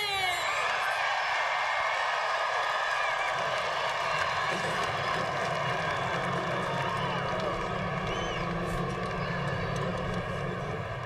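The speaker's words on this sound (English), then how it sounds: "Gentlemen, start your engine!" NASCAR stock car engines fire up at Talladega for the 2003 EA Sports 500, a dense, steady roar of many engines droning together continuously and loudly throughout.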